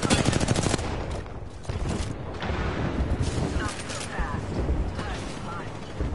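Video game gunfire, with a dense rapid burst of shots at the start followed by scattered mechanical clatter and further shots, while players talk over the action throughout.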